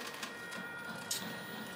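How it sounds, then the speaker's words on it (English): A Bambu Lab P1S 3D printer running its self-test hums and whirs steadily with dense mechanical noise and small clicks, close and continuous throughout the short stretch. "we can go ahead and start the self-test on the printer"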